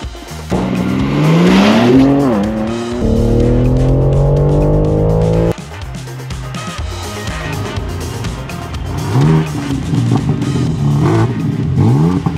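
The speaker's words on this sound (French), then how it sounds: "on va faire un petit son d'exhaust" A BMW M3 revs hard with a loud, close exhaust roar. The pitch climbs and drops through several throttle blips, then cuts sharply before revving again, with no voices over it.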